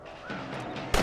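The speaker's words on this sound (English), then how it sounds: "You're better at shooting rabbits than outlaws, I see." A gunshot while hunting rabbits in Red Dead Redemption, one sharp crack at the very end following a brief stretch of soft outdoor game ambience.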